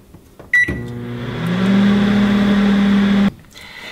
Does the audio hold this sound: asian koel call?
no